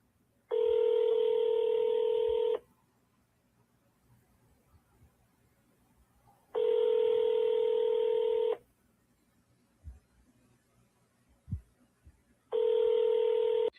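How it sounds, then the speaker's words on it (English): A telephone call ringing on the line: three long, steady ring tones, each about two seconds, separated by regular pauses of near silence. "Answer the phone, lady. Answer the damn phone."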